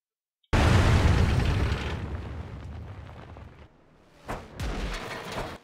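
An artillery shell explosion in World of Tanks, fired from a T-92 self-propelled gun: a sudden loud boom with a long rumbling tail, then further smaller impacts and crackling debris.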